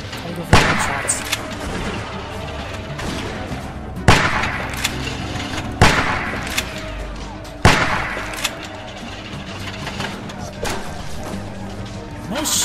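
Gunshots in The Walking Dead game, four sharp loud reports spaced a couple of seconds apart, each with a short ringing tail over a low ambient bed.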